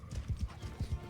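Horses' hooves clip-clop in a medieval battle video game with horse archers, several heavy low thuds in an irregular galloping rhythm, close and fairly loud, with no talk over them.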